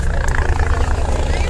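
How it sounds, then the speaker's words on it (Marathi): Helicopter flying near Kedarnath in cold mountain weather, a steady rotor thrum holding throughout at moderate distance, with a person talking over it. "हा आला ना परत हेलिकॉप्टर."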